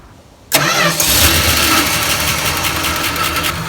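After half a second of quiet, a car engine cranks and catches with a sharp burst, then settles into a loud, steady close idle.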